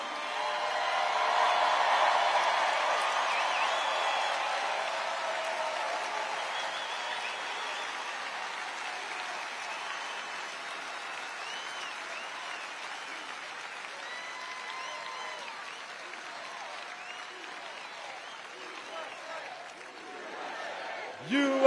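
A large political rally crowd applauding veterans, with a dense wash of clapping and cheering that swells early, then slowly fades over about twenty seconds with scattered shouts.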